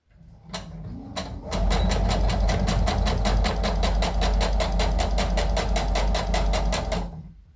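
Sewing machine stitching an overall dress, running in a steady, rapid, evenly pulsed whir for about six seconds, close and loud, with a few softer clicks as it starts up.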